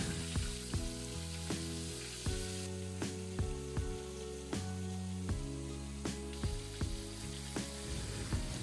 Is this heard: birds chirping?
no